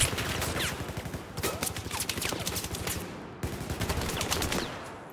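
Rapid hip-fired gunshots in a shooter video game ring out in dense, loud bursts, with a brief pause partway through before the firing resumes, and no talking over them.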